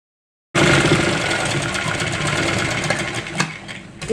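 A sewing machine stitches a seam on a trendy Afghani-style salwar, a steady close mechanical whirr running without pause after a brief silent start.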